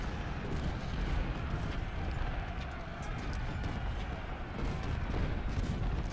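Artillery firing canister shot in an Ultimate General: Civil War battle defending Cemetery Ridge: a dense, continuous roar of booming cannon and crackling gunfire that stays loud throughout.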